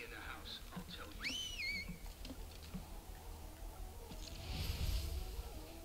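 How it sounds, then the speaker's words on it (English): Whistling in the Marvel's Spider-Man 2 video game, a rising then wavering two-note whistle that stands out briefly amid faint game ambience, followed later by a louder rumbling burst. "Who are they whistling for?"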